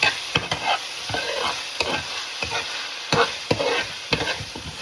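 Saltfish fries in hot oil while it is stirred in a pot for a Jamaican cook-up, a dense steady sizzle broken by sharp scraping and clacking strokes of a spoon, with nobody speaking.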